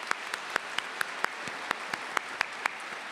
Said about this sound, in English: one more round of applause for Chris and John